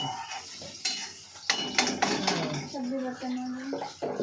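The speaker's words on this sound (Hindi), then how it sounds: "तब भी बर्तन मांज रहे हैं" Pots, pans and utensils being scrubbed and washed at home, with clinks and scraping knocks of metal dishes in an irregular rhythm, moderately close, while a person talks over the clatter.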